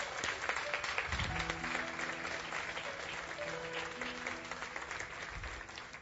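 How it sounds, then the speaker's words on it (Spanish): A church congregation applauds steadily and continuously, a dense wash of clapping from many hands that fills the room, heard alone without voices. "Ese aplauso es para Dios"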